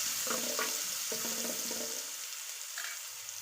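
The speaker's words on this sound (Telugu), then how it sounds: "అదే ప్యాన్లోకి ఒక స్పూను జీలకర్ర వెల్లుల్లిపాయలు అండి కచ్చాపచ్చిగా దంచుకున్న వెల్లుల్లిపాయలు ఇవి కొంచెం చక్కగా ఫ్రై చేసేసుకొని" Cumin and crushed garlic fry in a pan with a steady close hiss, broken by a few brief bubbling pops and stirring sounds, no one speaking.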